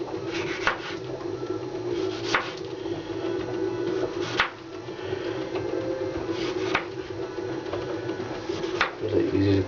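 A knife cuts potatoes into large chunks for a steamed carp dish, giving a handful of sharp, widely spaced chops on a board over a steady, busy kitchen background.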